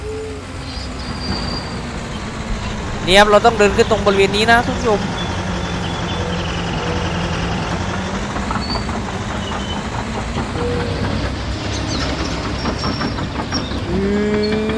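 Mining truck engine in Farming Simulator 19, a continuous low engine drone with shifting pitch as it drives and climbs, heard under someone talking throughout, with a brief louder rattling burst early on.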